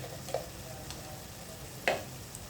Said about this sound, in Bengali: তারপরে ভালো করে কষাই নেব মশলাটা।